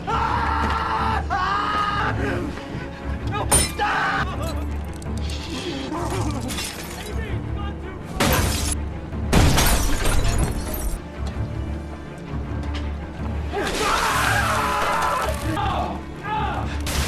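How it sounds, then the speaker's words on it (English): Window glass shatters as an intruder smashes in, a loud crash with breaking fragments amid a tense, noisy scene of booms, screams and a voice, the impacts recurring in bursts over dense background sound. "Then, a thug smashed a window,"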